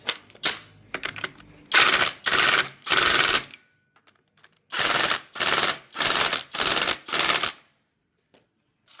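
Rapid, loud mechanical rattling bursts tighten the bolts on a Honda CBR engine's oil pump, about eight bursts in two groups, each around half a second long, separated by short silences.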